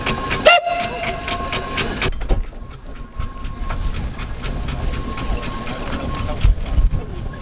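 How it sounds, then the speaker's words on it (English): A 1925 John Fowler Type BB1 steam ploughing engine chugs and hisses steadily outdoors at a ploughing match, with a sharp whistle blast near the start and low mechanical rumble throughout. "This is a Type BB1 ploughing engine, produced by John Fowler in 1925."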